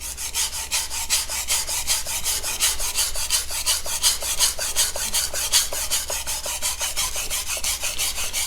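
A Magnacut steel knife blade is drawn across a sharpening stone in quick, regular strokes, a close rhythmic rasping scrape repeating steadily without pause.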